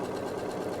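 A sewing machine runs steadily as it stitches down the final side of a three pocket fabric bag, a close, continuous mechanical whir with no talking.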